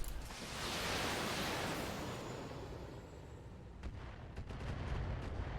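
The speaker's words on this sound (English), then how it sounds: "Alright, got some good missile hits there." Missiles strike targets in the BattleTech video game: a loud, rumbling barrage of booming impacts that swells, fades slightly, and then returns with a sharper cluster of explosive cracks near the end.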